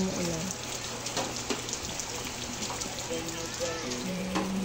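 Steady rain falls on pavement outside a house on a wet Sunday, a dense hiss of drops under occasional faint voices and household noises.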